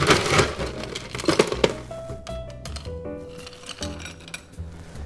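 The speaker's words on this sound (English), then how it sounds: "Now, before I forget, I always chill down my glassware." Chilled glassware being prepared for a Southside cocktail gives off a few bright, close clinks and chinks, with a busy knock-and-tap stretch at the start and then lighter ringing touches, no talk over it.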